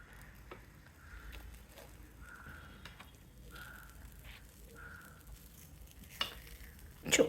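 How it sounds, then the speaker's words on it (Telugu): Poornam punugulu fry gently in a little oil over a low flame, giving a soft continuous sizzle with faint intermittent tones and a couple of sharper clatters near the end. "అంతే ఆయిల్ అమ్మ సిమ్ మీద పెట్టండి నిదానంగా వేయించుదాం"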